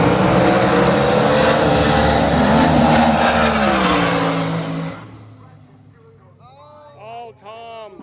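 A nostalgia funny car drag race run roars loudly and close for about five seconds, then drops away abruptly, leaving a faint rumble as an announcer talks over the end.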